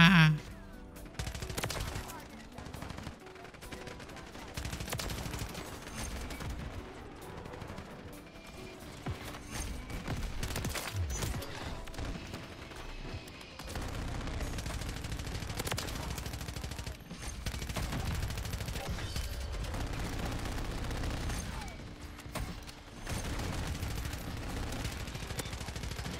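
Gunfire from the video game Call of Duty Modern Warfare 3 rattles in dense, continuous bursts of rapid shots, fairly loud and sustained, with a person talking intermittently over the shooting.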